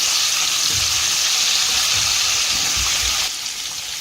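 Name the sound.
drumsticks frying in oil with coriander powder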